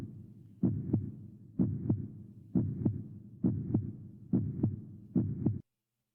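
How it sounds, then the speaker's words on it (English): A heartbeat sound effect in an animated intro throbs in paired double thumps, six beats in all, the gaps shortening slightly before it cuts to silence. "the heartbeat speeding up is a nice effect"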